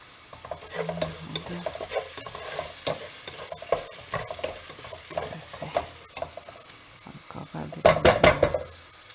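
Cabbage, onion and green pepper warming in a pan for Chinese-style chicken and rice, with soft sizzling and repeated stirring scrapes, utensil clinks and a louder burst of clattering near the end.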